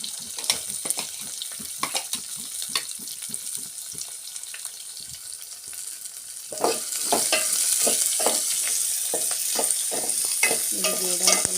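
Chopped onions hit a hot oiled pan for vada pav tomato chutney, a loud steady sizzle and crackle rising sharply partway through, with scraping stirs and splashes over the frying.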